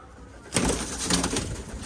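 Golden pigeons coo steadily at close range for about a second and a half, a soft murmuring warble that starts abruptly and continues without pause.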